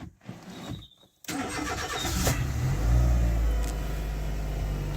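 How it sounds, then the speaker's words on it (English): A car engine cranks briefly and catches, then settles into a low rumbling, slightly lumpy idle, close by and alone with no talk. "We'll start it up anyway and see if it comes on when we start it up."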